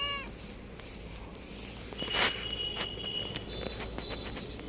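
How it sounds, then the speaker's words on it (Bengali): A pet cat meows in a few short, fairly close calls, one louder than the rest, in a quiet indoor room with light background hum. "তুমি তো ম্যাও ম্যাও করো কেন?"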